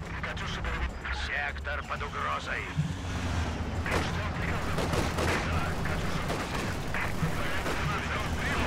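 BM-13 rocket artillery firing in the Company of Heroes 2 video game, a rolling barrage of booms and sharp explosive cracks layered over continuous battle noise, with someone talking over it.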